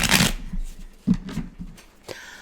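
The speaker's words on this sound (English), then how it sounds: "I'm going to shuffle one more time because I can't not shuffle" A deck of playing cards is shuffled during a tabletop game session, with a loud riffle burst at the start followed by several softer card snaps and taps, close and alone.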